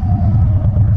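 A Harley-Davidson Dyna Wide Glide motorcycle's aftermarket exhaust pipes give a loud, close, deep throbbing rumble that holds steady for a moment with no voices over it.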